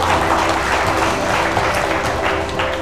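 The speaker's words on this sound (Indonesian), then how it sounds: "tepuk tangan buat rekan-rekan sekalian" A seminar audience at a talk on diabetes mellitus bursts into loud, sustained applause, dense overlapping clapping that holds steady throughout with no break and no speech over it.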